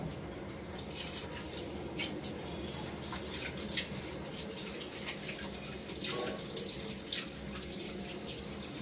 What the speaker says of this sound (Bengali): এখন ভালো করে নুন দিয়ে কচলিয়ে ধুয়ে নেব